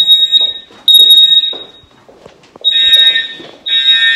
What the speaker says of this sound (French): l'alarme incendie s'est déclenchée